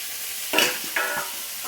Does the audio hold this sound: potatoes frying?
yes